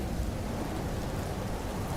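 Steady rain from a thunderstorm in the survival game Empyrion hisses continuously, a dense, even wash of falling drops with low rumbling underneath, holding at a constant level with no voices.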